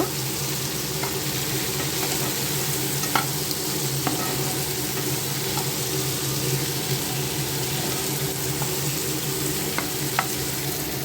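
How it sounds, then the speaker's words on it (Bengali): Spice paste with turmeric powder sautéing in a pan, a steady close sizzle with occasional light scrapes of stirring throughout, with no talking. "এখন সব মিক্স করে সাঁতলে নেব।"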